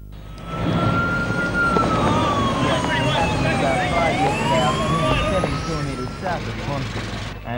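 Ambulance and police sirens race to a head-on collision between two cars on the Central Coast in 1988, wailing loudly with overlapping rising and falling sweeps and continuing without a break.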